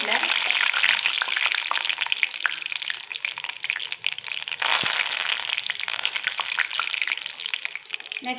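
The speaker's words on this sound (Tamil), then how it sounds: "கொஞ்சமாக வாசனை தாளிச்சுட்டு தட்டி பெருங்காயம் 2 பீஸ் போட்டுக்கிறேன்" Asafoetida, red chillies and curry leaves crackle in hot oil, a dense, continuous spluttering sizzle heard close up, with a brief dip midway.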